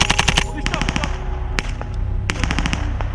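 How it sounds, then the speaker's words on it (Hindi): Heavy machine-gun fire in a combat assault on a mountain position, rapid bursts of loud, close shots with sharp single cracks between them, under a low rumbling background. "शुरुआत में दुश्मन की तरफ से भारी गोलीबारी की"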